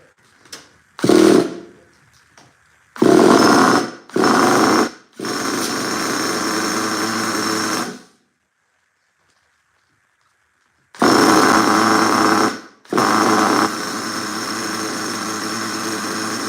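An RC monster truck motor revs in repeated bursts of a few seconds each, loud and close, with abrupt starts and stops and silent gaps between.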